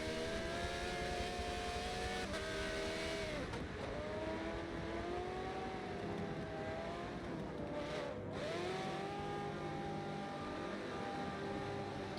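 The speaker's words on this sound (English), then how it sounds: "this is a car in the pit lane" Race car engines idling and revving in the pit lane of a racing video game endurance event, a steady loud drone with shifting engine pitch and swells, layered from several LMP prototype cars.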